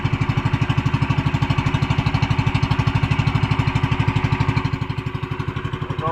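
A boat engine with a faulty carburetor idles close by, steady and rapidly pulsing, its low rhythmic chugging unbroken for the whole stretch with no voices.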